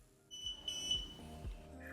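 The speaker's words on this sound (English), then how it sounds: "when you turn it off, it makes a beep." A teeth whitening device with a mouthpiece gives a thin, high electronic beep as it is switched off, a quiet steady tone held for about a second amid faint handling noise.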